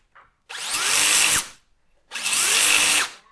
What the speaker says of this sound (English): A little bit of belt sander action.